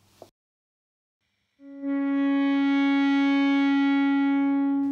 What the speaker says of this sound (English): I've added a bit of distortion just to give the note some sustain